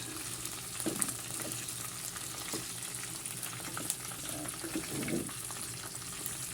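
Chicken feet frying in a pan for adobo, a steady close sizzle and crackle with a few soft stirring scrapes, and no talking.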